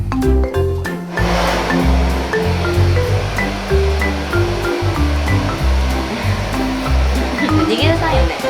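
Hair dryer blowing on a cat held against its owner's chest: a loud, steady rushing drone runs throughout, with voices talking over it.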